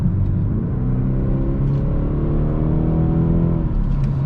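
A 2018 BMW 230i xDrive with about 36k miles accelerates hard along a winding road, its engine note rising in a steady, loud drone from inside the cabin with no talking.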